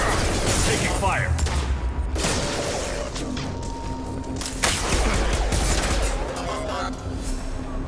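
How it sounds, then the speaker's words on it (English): Gunfire rattles in the Mass Effect 2 video game: rapid bursts of shots and impacts over a busy combat soundscape with mechanical clanks, with some voice sound in the mix. "Taking fire."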